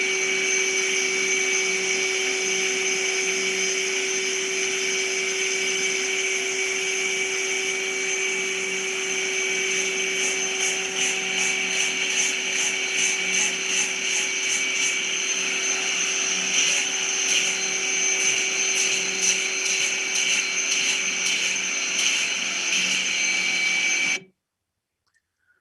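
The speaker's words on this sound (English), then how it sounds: "So here I am just grinding back some of the surfaces." Hand-held grinder working back the surfaces of a cast concrete piece, a loud continuous high-pitched whine with steady tonal hum that runs unbroken for about twenty-four seconds before cutting off abruptly.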